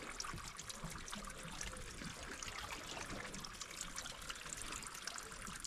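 A natural spring that flows all year trickles and babbles over rocks along a coastal trail, a continuous close, even rush of water with no voices.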